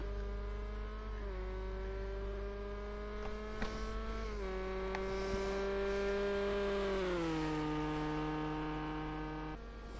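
A GTE race car engine drones in a racing video game at Circuit de la Sarthe, a steady tonal whine shifting pitch through gear changes and throttle lifts near the Porsche curves, heard alone at moderate level.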